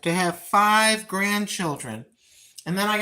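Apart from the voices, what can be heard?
None of the usual background noises is heard.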